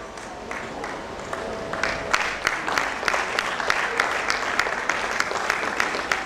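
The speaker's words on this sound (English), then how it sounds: "Please put your hands together for the chairman of today's occasion" A conference audience of dietitians in Nigeria applauds the chairman of the occasion, a dense continuous clapping that builds slightly and holds, with distinct sharp claps poking through the crowd texture.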